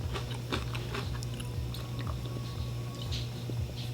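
Close-up chewing of Planters cheese curls soaked in Faygo Redpop: soft, squishy bites repeat in a steady rhythm, moist and muffled, with faint crunches between them.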